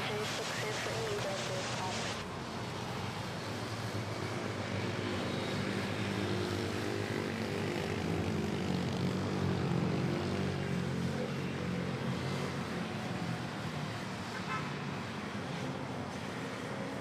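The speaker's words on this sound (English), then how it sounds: "we have Philippine Airlines taking off to Tacloban, Leyte" A Philippine Airlines airliner taking off at Manila Airport, a broad continuous engine roar that swells slightly in the middle, heard from a distance over steady background traffic noise.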